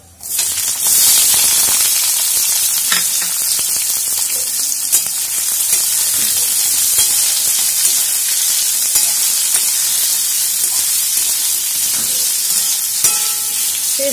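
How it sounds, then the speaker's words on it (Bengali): Chopped onions fry and are stirred in a pan for a fish jhuri dish, a loud, steady sizzle running throughout with scraping stirs now and then. "পেঁয়াজ কুচিটা দিয়ে একটু ভালো করে এটা হালকা ব্রাউন হওয়া পর্যন্ত নাড়তে হবে"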